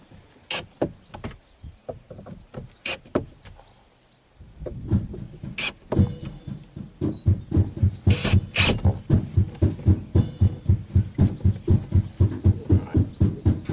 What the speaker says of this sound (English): We'll flip the wheel on.